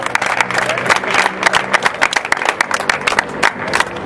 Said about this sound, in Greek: ένα δυνατό χειροκρότημα στον Ντέμι και στη Μέρη.